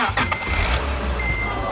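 A car engine cranks briefly and catches, then settles into a steady, close running note with no talk over it.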